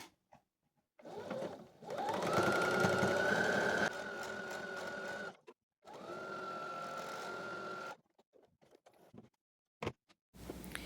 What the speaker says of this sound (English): I'm going to zigzag on my sewing machine over the seams